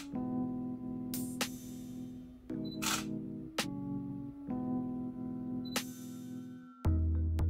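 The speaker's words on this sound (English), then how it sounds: "Once you start, it'll start taking photos by itself." Camera shutter clicks repeating every second or so during time-lapse shooting on a Konova motorized slider, over a steady electronic motor hum.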